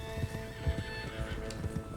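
Several horses gallop together across open ground in Red Dead Redemption 2, hoofbeats thudding in an uneven rolling rhythm with an occasional whinny, close and steady, with no talk.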